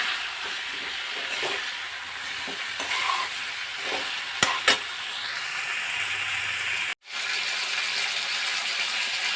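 Cauliflower fries with spices and softened tomatoes in a pan, giving a steady close sizzle. Several scraping stirs of a spatula break through it.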